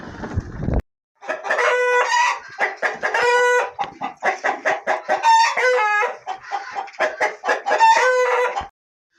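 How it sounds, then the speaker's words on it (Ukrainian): A hen squawks and clucks loudly and repeatedly up close as her eggs are taken, in agitated, rapid bursts with brief pauses between calls. "Оце так був розкричався, тому що яйця в кури забирала"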